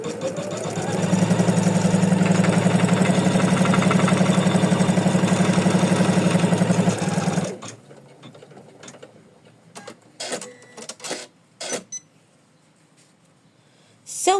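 An embroidery machine stitches an applique for a cozy house ornament, running as a steady, loud mechanical hum with a fast rhythmic needle clatter for about seven seconds. It then stops, leaving faint clicks and handling noises.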